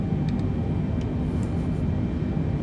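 A simulated Boeing 747 in Microsoft Flight Simulator 2020 begins its takeoff roll, a loud, steady low engine rumble running continuously without a break.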